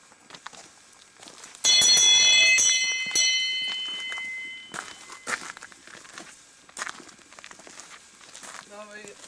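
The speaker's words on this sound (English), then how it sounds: "Ring the bell as you come in. That's our doorbell." A doorbell rings at the entrance of a house on a nature preserve, a bright cluster of bell tones that rings out and decays over a couple of seconds, followed by footsteps and rustling nearby as someone walks in.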